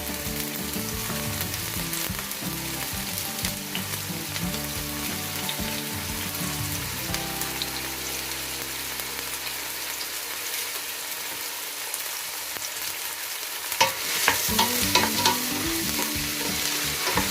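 Curry leaves hit hot coconut oil for beef pepper fry with a loud, constant sizzle and spatter, stirred near the pan, the crackle briefly surging near the end.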